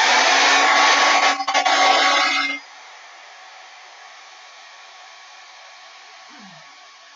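A hair dryer blows loudly at close range on a freshly painted flower in a craft project, a steady whooshing roar that cuts off after a couple of seconds, leaving a quiet room.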